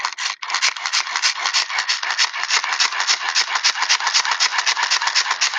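Hand-crank flashlight being wound, giving a steady, continuous whirring rattle of its internal gears and generator that runs close and loud throughout, with a brief pause near the start.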